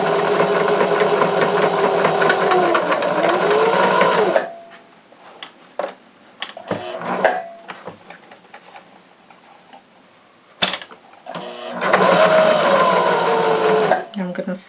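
A sewing machine straight-stitches a fabric face mask in two long, loud, steady runs separated by a pause filled with handling clicks and brief taps.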